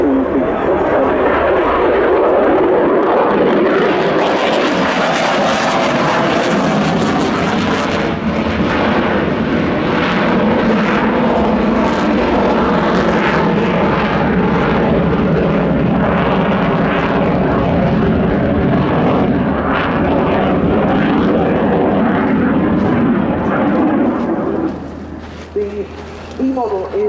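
A Saab JAS 39E Gripen fighter jet flying a display at RIAT roars loudly and continuously for the whole stretch, with a commentator talking over the engine noise, which eases slightly near the end.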